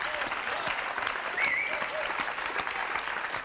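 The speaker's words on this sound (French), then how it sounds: "on peut vous applaudir" Steady studio audience applause on a French television talk show, dense even clapping at a constant level throughout, with a brief whistle or cheer rising above it midway.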